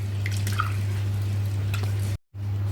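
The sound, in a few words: water while washing masoor dal (lentils)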